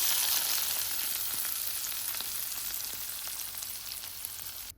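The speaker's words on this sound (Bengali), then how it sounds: "পেঁয়াজ বেরেস্তা ভাজা শেষ এখন ঢেলে দিচ্ছি এখানে" Fried onions poured into a curry with jackfruit seeds, zucchini and lentils give steady, loud sizzling of hot oil with faint stirring clicks, continuous throughout and fading slightly toward the end.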